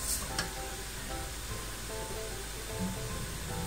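Garlic goes into a frying pan of toasting ají, a steady close sizzle and crackle throughout, with faint background music.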